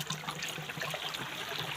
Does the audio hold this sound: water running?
yes